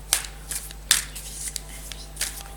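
Oracle cards being shuffled for a fire-sign tarot reading, with several quick riffling bursts spaced through the clip, close and crisp, no talking.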